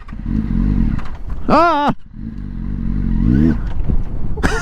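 A Yamaha Fazer 600 motorcycle rumbles steadily up close while being ridden, its engine note rising briefly, with a loud shout cutting in over the engine.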